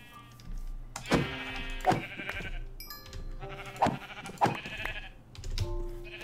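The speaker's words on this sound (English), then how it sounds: "I did just walk past a couple of sheep." Several sheep bleat in a Minecraft village, a series of short, wavering, nasal calls spaced unevenly across the moment, fairly close and clear with no talking over them.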